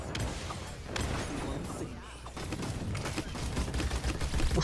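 Rapid bursts of gunfire crackle through a Paladins match, dense and close with brief lulls, a voice occasionally heard underneath.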